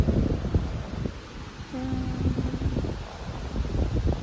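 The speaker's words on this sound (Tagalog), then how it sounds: "Lakas guys ang hangin, oh." Gusty wind buffets the microphone in loud, rumbling bursts outdoors, with a brief faint tone briefly audible beneath the roar.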